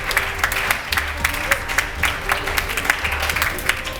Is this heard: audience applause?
yes